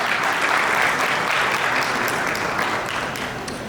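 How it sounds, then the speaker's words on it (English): An audience at a tech conference in Lagos claps together, a dense burst of steady applause that holds for a few seconds and then slowly thins out. "So please give yourself a round of applause."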